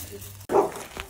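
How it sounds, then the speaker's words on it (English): Dog at a Boxing Day barbecue giving a single short bark or yip close by, with faint background chatter around it. "Spud is Philip's parents' dog"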